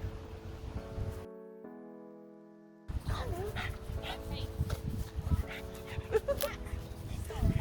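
A dog barks and whimpers in short bursts under ongoing talk and background bustle, following a brief steady tone.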